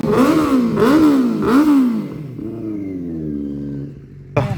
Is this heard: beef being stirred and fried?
no